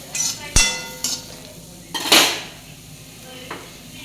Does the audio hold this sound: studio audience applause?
no